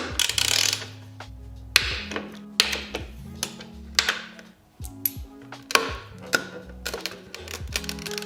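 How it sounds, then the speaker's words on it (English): Screws come out of a Honda CBR motorcycle fairing during a rebuild, with repeated ratcheting clicks and sharp metallic taps close by, arriving in uneven bursts. "I'm gonna go ahead and take this fairing piece off and see if I can get to this."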